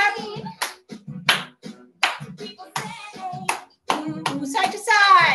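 Children in a dance class clap their hands in short bursts of sharp claps mixed with scattered voices and movement noise, close and lively.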